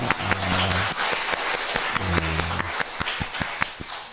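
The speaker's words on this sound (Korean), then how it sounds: "우리 어린이들과 청소년들 축복의 박수 하겠습니다" A church congregation at a dawn prayer service claps in blessing for the children and youth, with sharp, uneven hand claps sounding alongside low sustained organ or keyboard tones.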